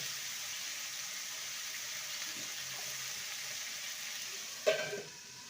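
Vegetables frying under a lid in a pan over low-to-medium heat while spinach ghonto is being cooked, a steady soft sizzle throughout, then a sudden clatter near the end.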